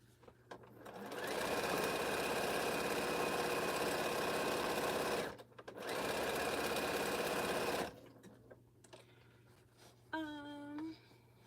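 A quilting sewing machine stitches in two long, steady runs of rapid, even buzzing, separated by a short pause, then stops; a soft tonal chime sounds briefly near the end.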